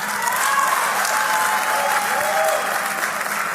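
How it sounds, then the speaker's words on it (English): Big crowd at a Freedom Day 2025 political rally in South Africa giving sustained applause, an even roar of clapping with faint cheering tones threaded through it. "To give our metro team a big hand of applause"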